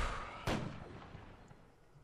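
A single gunshot in Arma 3, one sharp crack with a booming tail that fades over about a second and a half, heard alone at a fairly low level.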